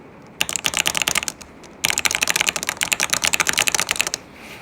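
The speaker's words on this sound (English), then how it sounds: "It's the creamy Akko Matcha Green Pro switches, and here's what it sounds like on the table." A keyboard with creamy Akko Matcha Green Pro switches typed on a table: two quick runs of crisp, clacky keystrokes split by a short pause, close and clear.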